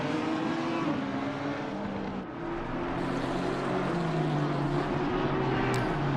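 GT race cars, including a Lamborghini and an Aston Martin, roar around the Kyalami circuit, with sustained engine drones shifting in pitch as several cars pass close by, loud and continuous.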